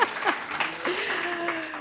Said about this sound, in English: And there's applause for New York.